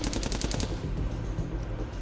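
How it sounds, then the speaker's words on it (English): Rapid machine-gun fire rattles close and loud in a continuous burst, the sharp repeated shots giving way to a dense roar of gunfire in a tense street scene. "The sudden close sound of gunfire finally serves as a wake-up call for her"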